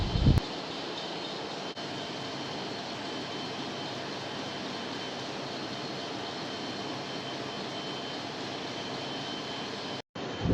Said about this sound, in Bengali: লঞ্চটিতে প্রফেশনাল সিস্টেমে রয়েছে 32 হর্সপাওয়ারের 2টি শক্তিশালী ইঞ্জিন